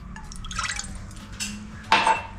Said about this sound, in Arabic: غنديرو نص كاس ديال الخل